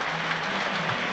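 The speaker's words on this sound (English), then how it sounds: "Applause for Roberts as he comes off." Spectators in a football stadium at a Sunderland versus Plymouth match applaud a substituted player leaving the pitch, a brief, even roar of distant clapping and crowd noise with no breaks.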